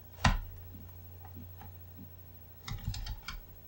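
A computer keyboard is tapped to enter a command, a sharp click followed by sparse light keystrokes and then a quick burst of several keys, close and quiet.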